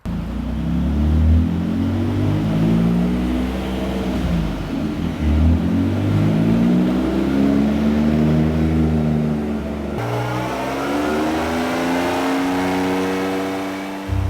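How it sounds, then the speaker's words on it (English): A Ford F150 pickup strapped to a dyno runs up through its range, loud tire roar dominating over the exhaust, with rising and falling engine pitch and a brief drop before another climb, close and continuous without talking. "The tires are louder than the exhaust, so you don't really hear the exhaust that well. It's just a whole lot of tire noise."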